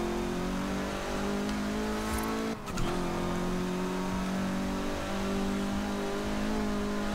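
A Honda Civic RS with a swapped engine in Forza Horizon 4 accelerates hard, its engine note climbing steadily with a quick gear-shift dip midway, then rising again, loud and continuous.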